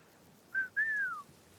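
A two-part signal whistle from a person, used as a call to come running: a short rising note, a brief gap, then a longer sliding note that falls away, clear and fairly close over quiet background.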